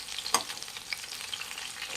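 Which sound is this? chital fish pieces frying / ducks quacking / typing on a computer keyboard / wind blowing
chital fish pieces frying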